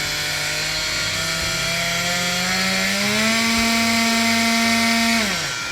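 A Panasonic MX-SS40 hand blender whirs steadily nearby. Its motor pitch rises as the speed changes, holds at a higher whine, then drops away as it is switched off.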